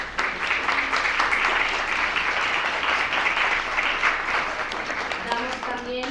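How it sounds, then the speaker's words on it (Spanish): An audience claps steadily for a female doctor at a talk, sustained dense applause throughout with some background voices mixing in, tapering slightly near the end. "Le damos un aplauso a la doctora."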